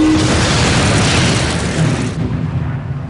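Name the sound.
large explosion of a torpedo hitting a ship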